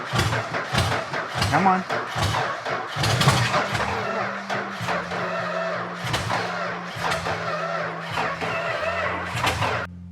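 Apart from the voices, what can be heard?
old engine unrun for 50 years being started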